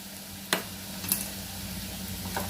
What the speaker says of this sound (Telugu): ఇలా కారం వేసేసాక దీన్ని ఇలా కలుపుతూ మరొక 2 నిమిషాలు బాగా వేయించేసుకోండి మీడియం ఫ్లేమ్లో.